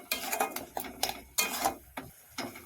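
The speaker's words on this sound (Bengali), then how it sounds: "এবারে মশলাটাকে একটু কষিয়ে নেব" A spice mix with chopped tomato, salt and turmeric being sautéed in a pan: a spoon clinks and scrapes against the metal in quick irregular bursts, fairly close, with no steady sizzle.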